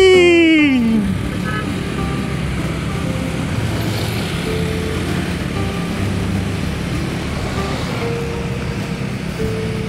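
Fairly congested road traffic on the way to Sukabumi, Java: a steady wash of car and truck engine rumble and tyre noise, fairly loud and continuous throughout, with a brief rising tone at the start.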